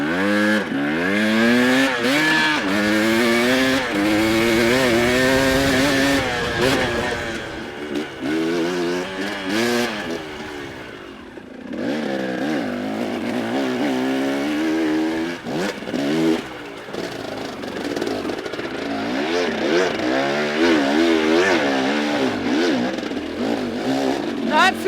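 A dirt motorcycle fitted with an XTNG carburetor ridden fast on a trail at Peach Valley, its engine rising and falling loudly through repeated revs and gear changes, with wind noise and occasional voice.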